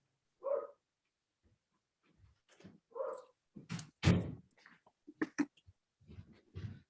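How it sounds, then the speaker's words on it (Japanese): A neighbor's dog barks in a few separate bursts, followed by several doors being shut with dull thuds and a slam, all in a quiet indoor room. "今ちょっと隣の犬がうるさいのでドアを閉めまくりました。"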